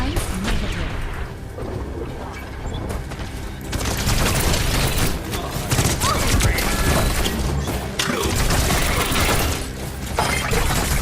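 Tracer's guns firing in Overwatch, dense clattering bursts of rapid fire and impacts amid busy game noise, with a voice briefly speaking.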